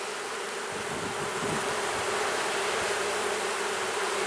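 Honey bees drone steadily at an open beehive during a queen-marking inspection, a dense, close, continuous buzz that swells slightly after the first second.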